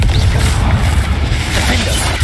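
A Confringo blasting spell lands in the Hogwarts Legacy video game during a duel, a loud, dense, crackling burst of noise that fills the whole moment without a break.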